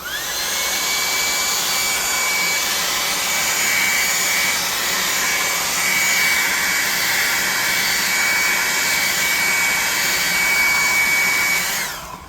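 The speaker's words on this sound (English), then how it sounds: "We're going to hit it with the blow dryer." A blow dryer runs steadily with a loud, constant airy whir and a thin high whine, drying a handmade tabletop die, switching off near the end.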